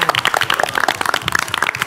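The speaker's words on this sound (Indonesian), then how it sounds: "Tepuk tangan dulu" Dense crowd applause from a quiz show audience, rapid overlapping claps filling the whole short stretch at close, loud level.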